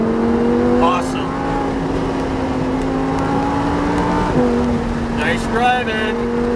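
A Lamborghini Huracan on a race track, its engine drone steady and close inside the cabin, pitch shifting as the car settles, with an instructor talking over it.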